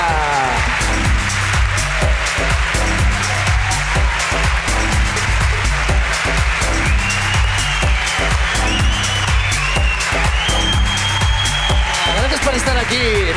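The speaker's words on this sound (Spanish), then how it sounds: "¡Aplausos para ella!" An audience applauds Idoia Mújica at a live podcast taping, with dense, sustained clapping and crowd noise that stays loud and even throughout.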